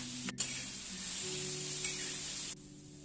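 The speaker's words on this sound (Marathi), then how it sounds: "तव्यावरती चांगला कांदा भाजून घ्यायचा, त्यात थोडंसं टोमॅटो घालायचं" Onion and tomato roasting on a hot griddle give a steady close sizzle and hiss that holds evenly, with a brief sharp clatter near the start, then cuts off abruptly before the end.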